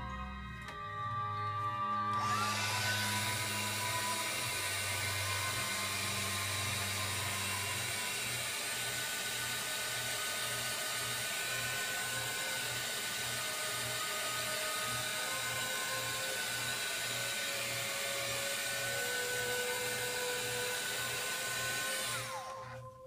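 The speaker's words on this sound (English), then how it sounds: "I'm going to hit this with my my heat tool, and that will expedite the drying process much more quickly" A heat tool drying craft paint runs as a loud, steady, high-pitched whine and blowing roar that starts abruptly and holds close and unbroken for about twenty seconds before cutting off, with a faint rhythmic ticking underneath and no talking.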